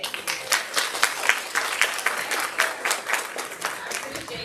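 Audience applauding after a keynote address, dense steady clapping from a crowd that holds evenly throughout, with faint voices mixed in.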